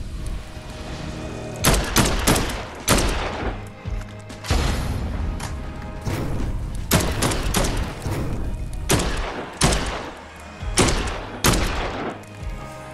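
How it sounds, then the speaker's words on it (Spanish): Gunfire in the Dead Island 2 video game, repeated loud booming shots and bursts in irregular clusters with thuds between them, close and dense throughout. "Con un par de tiros, si apuntas así a la cabeza más o menos, los puedes tumbar"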